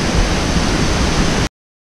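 Waterfall near Dalat in Vietnam, a loud steady broadband roar of rushing water filling the whole stretch before cutting off sharply into silence, with no voices.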